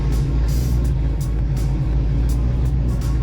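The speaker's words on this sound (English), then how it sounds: "When you rev it up, I'm pressing the gas right now." A loud, close Corvette Z06 engine idling and revving with uneven, sputtering bursts, the rough rhythm breaking up several times as it stutters under throttle.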